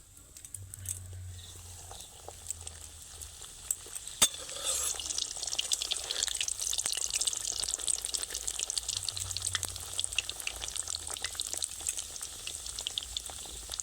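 Fish-stuffed luchi dropped into hot oil, quiet at first, then a strong bubbling sizzle rising and holding steady, close, with a few clinks and no talk.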